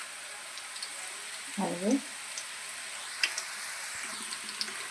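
Mustard seeds, cumin and urad dal sizzle and crackle steadily in hot oil, a soft continuous frying hiss with a few sharper pops, while a voice briefly speaks over it.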